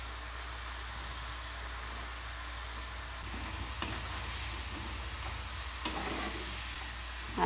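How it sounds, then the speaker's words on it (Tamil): Carrot gulab jamun balls deep-frying in hot oil, a steady low bubbling sizzle that holds throughout, with a few faint clinks near the end. "எண்ணெயில் போட்டு அதை பொரித்து எடுத்துக்கலாம்."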